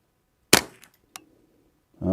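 A Ruger 10/22 rifle fitted with a CST CentriX-22 receiver and Summit-Precision barrel fires one sharp, close shot with a short ringing tail, followed by a fainter click or impact.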